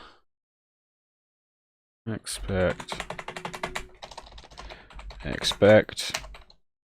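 Commands are typed on a computer keyboard during a Linux From Scratch build, with bursts of close, rapid key clicks after a silent stretch, mixed with short spoken remarks.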